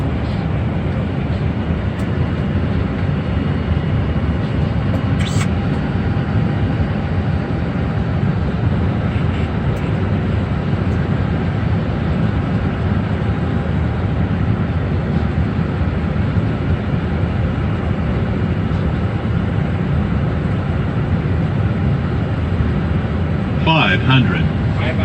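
A Boeing 747 on final approach into Tainan Airport gives a steady, loud, broadband roar inside the cockpit that holds without a break, with faint radio voices under it.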